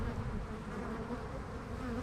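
Black honey bees of the Savoie breed swarm around their mountain hive in a dense, steady, close buzzing drone that holds at one level throughout.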